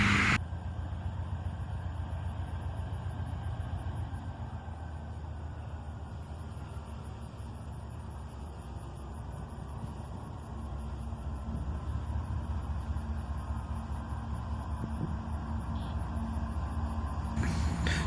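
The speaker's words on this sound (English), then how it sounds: "if you listen carefully, you can actually hear him throttle down here" Freight train led by a single AC44CW locomotive creeping slowly northbound out of town, its diesel rumble distant and steady, easing slightly as the throttle drops, under broad noise with no talk.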